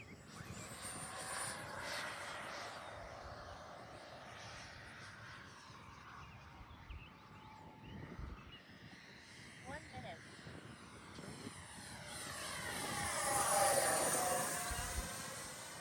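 A twin 40mm RC F-18 jet makes a low pass in high wind, its turbine whine rising to a loud, close roar as it passes, over gusting wind noise with people talking nearby.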